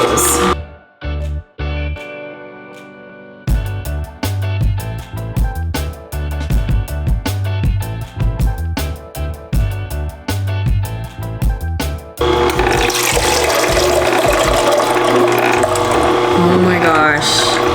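A Nama juicer grinding almonds and dates for homemade almond milk: irregular clunking and crunching bursts that settle into a steady loud mechanical churning, ending in a denser continuous grind.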